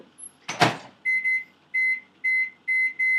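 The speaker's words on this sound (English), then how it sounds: "please pardon the sound of the microwave" A steady electronic beeping pattern repeats in short paired bursts after a brief muffled thump, heard alone in a quiet room.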